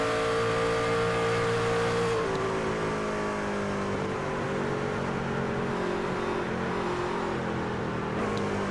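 A race truck's engine in a racing video game on a superspeedway oval, droning loud and steady, then dropping pitch as it downshifts and holding a lower roar.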